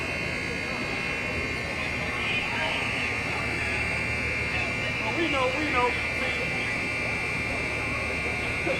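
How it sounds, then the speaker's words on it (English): An alarm from a parking shop during riots in Minneapolis holds a steady electronic tone throughout, with street noise and voices mixed in. "There's some kind of alarm from this parking shop."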